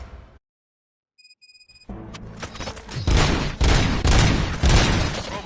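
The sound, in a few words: gunfire in the video game RoboCop Rogue City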